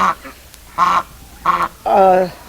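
Pekin ducks quack close by in several loud, nasal calls spaced about half a second apart, the last one drawn out longer.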